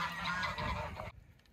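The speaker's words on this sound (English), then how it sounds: "I'm glad you're not like those geese." Geese give a loud, close burst of overlapping honks that lasts about a second and then stops abruptly.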